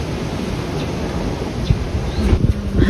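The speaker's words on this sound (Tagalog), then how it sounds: "Mahangin siya talaga, pero malamig siya," Wind blowing outdoors on a cool, breezy day at a home in Japan: a steady broadband rush with no voices, growing slightly rougher with a few gusty bumps toward the end.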